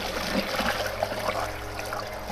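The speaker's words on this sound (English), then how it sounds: "I'm going to add some water." Water pours steadily and continuously into a Mazda Miata (MX5) radiator, a close, even gushing trickle with no talk.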